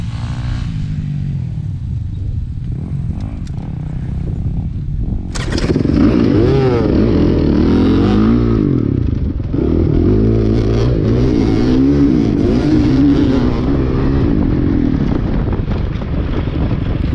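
A Suzuki RM-Z450 motocross bike races a full lap at a GP-style cross-country event, its engine revving hard and rising through gears, loud and close, with wind buffeting the microphone throughout.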